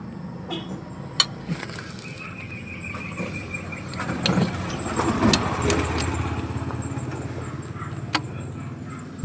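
A Hyundai Porter with a D4CB diesel engine, idle for two years, is cranked, with squealing, clicks and a rough, building mechanical churn that swells midway and fades into uneven running.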